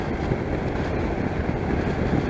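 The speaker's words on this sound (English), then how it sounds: "Let's close the visor down. I've got the wind in my face now." Wind rushes hard against a motorcycle helmet with the visor down on a ride along a stony beach, a loud, steady roar filling the whole clip.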